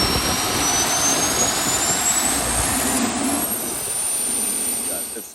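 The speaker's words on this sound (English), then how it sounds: "once we start it up, it literally sounds like you're standing in front of a fighter jet" A turbine-powered concept tractor spinning up to around 60,000 RPM, a loud, close jet-like roar with a rising whine that climbs steadily, then eases slightly toward the end.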